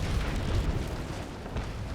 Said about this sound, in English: Oh boy, let's do some broadside.